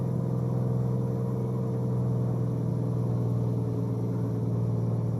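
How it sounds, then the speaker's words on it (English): Big old Kenworth K100E truck engine droning steadily inside the cab, a loud, constant low rumble with no voices over it. "especially with that big old motor right by your right knee"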